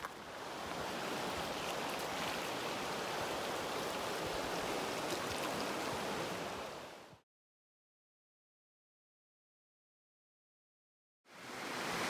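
Clear mountain stream running beside the Ptarmigan Lake hiking trail, a steady full rush of water for about seven seconds that cuts to silence and then returns near the end.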